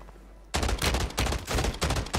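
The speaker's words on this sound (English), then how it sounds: "Wow, this gun is amazing." An FJX Horus gun in a video game fires a rapid automatic burst, loud close shots in quick succession with barely any gap between them after a short quiet start.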